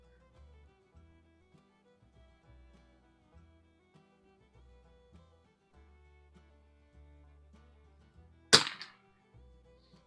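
A 1972 Anschutz Match 54 model 1407 rifle fires one sharp, loud shot outdoors at a range, a single crack standing out against near silence with only faint low rumbles before and after.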